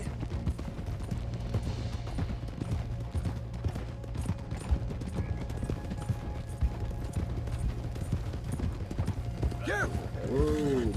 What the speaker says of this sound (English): Let's go get some horses.